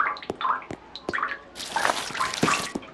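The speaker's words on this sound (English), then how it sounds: "That is some high quality dripping." Water drips in the cave ambience of the VR game Bonelab: distinct, crisp drops fall one by one at an irregular pace, close and fairly loud, over soft wet trickling.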